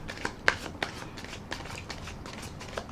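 Tarot deck being riffle shuffled by hand, rapid papery fluttering with a few sharper snaps, close and fairly soft, no talking.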